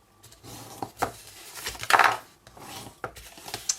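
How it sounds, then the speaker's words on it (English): Card stock being folded along score lines and burnished, heard as soft close rubs, taps and scrapes in an irregular pattern, with one louder scraping pass in the middle and no talk. "so fold and burnish your score lines."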